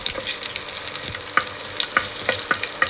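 Garlic cloves and ginger frying in a pan give a continuous sizzle, broken by several sharp stirring scrapes and clicks from a utensil.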